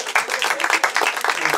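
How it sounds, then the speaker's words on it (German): Comedy show audience at a live stand-up performance in Germany breaking into brisk, dense applause, loud and close, sustained throughout with bursts of individual claps and no talk over it. "Applaus für das komische Bärchen"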